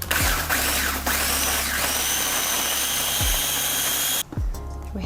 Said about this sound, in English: So I'm gonna get a food processor.